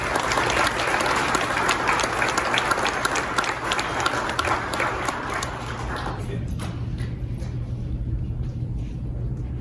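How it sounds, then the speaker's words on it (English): Audience applause at a county sheriff's department promotion and awards ceremony, steady and full for about six seconds before tapering into a quieter room murmur with scattered claps. "A round of applause for Sergeant Waldo."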